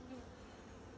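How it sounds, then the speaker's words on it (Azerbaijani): Honeybees at a kept beehive give a dense, continuous buzz, close to the microphone and steady throughout, with no talk over it. "Bax, belə bu da bizim arı."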